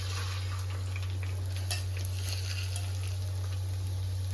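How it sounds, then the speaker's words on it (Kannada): Sprouted beans frying in oil for sambar, a steady close hiss and sizzle over a low constant hum, with faint crackles and no talk. "ಮೊಳಕೆ ಹುಳಿಕಾಳು ಒಂದು ಸ್ವಲ್ಪ ಫ್ರೈ ಆಗಲಿ ಚೆನ್ನಾಗೆ"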